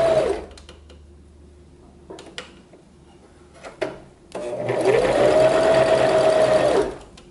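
Sewing machine hemming special-occasion fabric with a rolled hem foot: a few short mechanical taps and rustles, then a steady loud run of stitching lasting about two and a half seconds before stopping.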